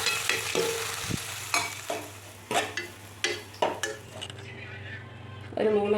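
Dry-roasting copra in a pan with coriander, chili powder and whole spices such as fennel and garlic, with sizzling, a spoon scraping and stirring in irregular strokes, and pan clinks, close up and alone.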